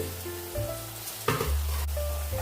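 Carrots and cabbage hit a pan of fried onions, setting off a steady, close sizzle with a sharp clatter partway through as the vegetables are stirred.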